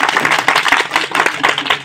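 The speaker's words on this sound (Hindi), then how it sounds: "जरा बजाओ बच्चों, सभी लोग मिलके जोरदार तालियां।" A group of children claps together in a dense, steady patter for about two seconds, loud and close, with a few faint voices mixed in.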